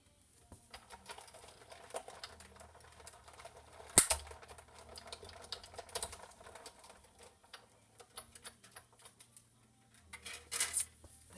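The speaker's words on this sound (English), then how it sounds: "then we can die cut that out" A die cutting machine feeds card through for an Easter card, producing a steady stream of soft ticking clicks over a low rolling rumble, with a sharper thump about a third of the way in and a brief burst near the end.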